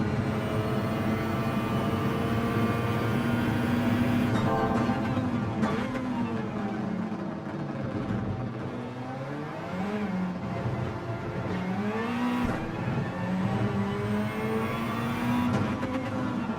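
A race car in Gran Turismo 7 revs hard as it accelerates, its loud engine note climbing repeatedly and dropping at each gear change in a steady, droning sequence.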